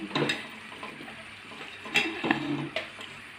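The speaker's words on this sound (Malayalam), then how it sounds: "ഈ കൂട്ട് ഒഴിച്ചു കൊടുക്കാണ് എല്ലാം ഒഴിച്ചു കൊടുക്കുന്നുണ്ട് കേട്ടോ" Mysore pak batter is poured into a hot pan, producing a soft, steady sizzle close by, with a few light scrapes and clinks of utensils.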